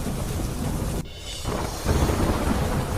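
Heavy downpour with thunder in Pali, Rajasthan: a dense wash of rain, a short dip partway through, then a deep rolling rumble swelling under the rain, with no voices.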